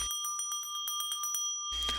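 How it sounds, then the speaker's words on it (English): A bell rung to signal a prostration gives a rapid run of about ten bright, ringing strikes at an even rhythm, followed by a louder, more diffuse sound at the end. "Each time the bell is rung, it signals to start a prostration"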